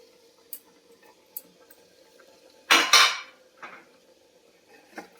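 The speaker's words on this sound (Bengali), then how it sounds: "এবারে কি করব, নেড়ে নেবো" Tomatoes stirred in a pot for handi chicken: a loud, brief scrape of the utensil against the pot in the middle, set among a few sparse, quieter clinks.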